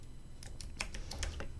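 A prompt typed on a computer keyboard: a quick, uneven run of soft key clicks, close but quiet, with nothing else in the room.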